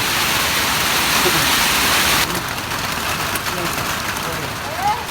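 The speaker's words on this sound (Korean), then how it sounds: "비가 갑자기 많이 오네" Heavy rain suddenly pouring down on a farm in Cambodia, heard from indoors as a dense, steady roar, with a sudden drop in intensity partway through and faint voices underneath.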